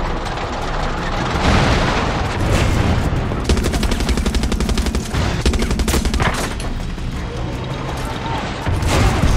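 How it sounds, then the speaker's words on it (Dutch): Dense gunfire and explosions from the video game Far Cry 6, with rapid machine-gun bursts and booming blasts layered over each other, loud and continuous, while someone talks over the action. "Je ziet overal ontploffingen."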